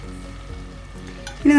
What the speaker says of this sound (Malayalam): അങ്ങനെ കംപ്ലീറ്റ് ശർക്കരപ്പാനി നമുക്കിതിലേക്ക് ചേർക്കാം.